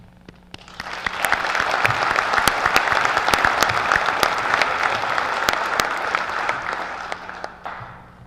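An audience at a college president's inauguration ceremony breaks into sustained applause, with many hands clapping loudly in a hall for about seven seconds before the clapping fades out.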